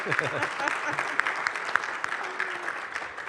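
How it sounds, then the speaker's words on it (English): An audience at a university talk on agtech startups gives a round of applause, with steady clapping and a few sharper individual claps, and no voices over it. "All right, folks, round of applause."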